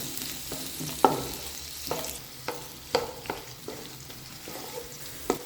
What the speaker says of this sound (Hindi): प्याज को जो है अच्छी तरह से भून लेंगे